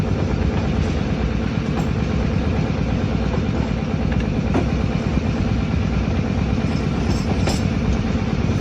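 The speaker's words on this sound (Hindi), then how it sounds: "यहाँ से ट्रेन हमारी तकरीबन 15 की स्पीड से गुजरेगी" The Awam Express rolls slowly through a station at roughly 15 km/h, a steady loud rumble of wheels and carriages with a faint rhythmic clatter and occasional metallic squeaks, with no voices.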